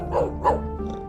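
A dog barks twice in quick succession at close range, followed by a softer yip over a low background hum.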